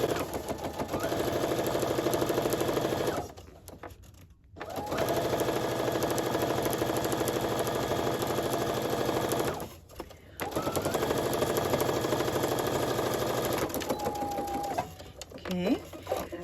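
A sewing machine stitches a seam in quilt sashing, a loud, close, rapid whirring hum in long runs that stops twice for short breaks, with a faint squeak near the end.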